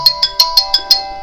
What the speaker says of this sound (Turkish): telefon çaldı da e, o yüzden ara vermek durumunda kaldık